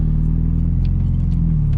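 A turbocharged Mazda Miata running 10 psi of boost drones with a steady, loud, close engine rumble while driving, its pitch easing slightly toward the end.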